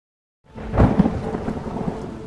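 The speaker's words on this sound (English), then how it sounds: "The storm doesn't ask." After a moment of silence, a thunderstorm breaks in with a loud, close thunder rumble over steady rain, then the rumbling fades into continuing rainfall.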